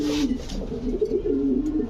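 A fiery-eyed pet pigeon coos in a steady, low, warbling burble, close and clear, continuing without pause for the whole moment with no voices.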